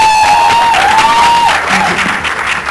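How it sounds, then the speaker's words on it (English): Loud, close applause from a crowd at a film trailer launch, with scattered cheers and a sustained whistle-like tone over the first half before the clapping thins. "Big round of applause for her."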